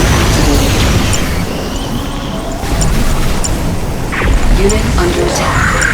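Ion cannon blast from the Xbox version of Command & Conquer 3: Kane's Wrath, a deep booming rumble over dense, continuous battle noise, with game voice lines heard throughout.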